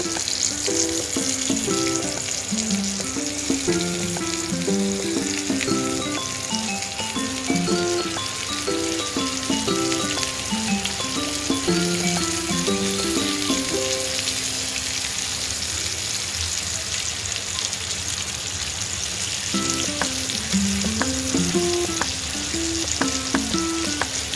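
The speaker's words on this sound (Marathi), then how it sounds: "मस्त अशी फ्राय करून घेणार आहोत आपण कारली" Stuffed bitter gourds (karela) frying in oil in a pan, a loud continuous crackling sizzle throughout, with repeated clinks and scrapes of a utensil moving the pieces.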